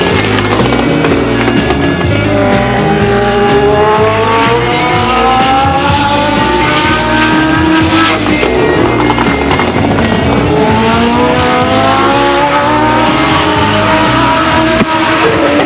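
A single Legends race car laps Stockton 99 Speedway, its engine loud and close, rising and falling in pitch with each gear change and corner, repeating in waves as it circles alone.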